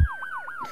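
Ambulance siren from the video game IndieЯ - Charge, a loud wailing tone sweeping up and down in quick repeated cycles right after a low thump, heard alone.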